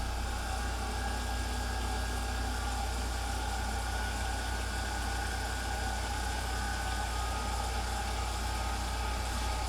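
An FRL XP 235 M2 engine runs steadily at just over 2,000 RPM, giving a constant, even drone with a deep low hum and no variation throughout.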